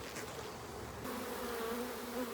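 A captured honeybee swarm, likely with the queen inside, gives a steady, dense buzzing that hums continuously from start to finish at moderate distance.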